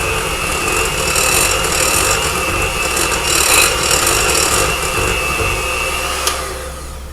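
Electric mixer whirring through chocolate chip cookie dough in a home kitchen, a loud, steady motor drone close by with slight scraping variations, cutting off abruptly near the end.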